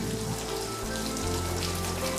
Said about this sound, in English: It's raining in Delft, and we're right along the side of the canal